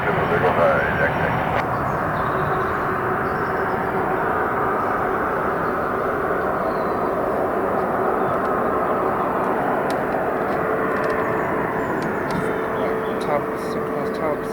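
A Turkmenistan Airlines Airbus A330-200F cargo jet taking off at London Stansted Airport: a steady, loud, broad engine roar that holds throughout.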